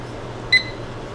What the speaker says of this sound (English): Let me set the timer.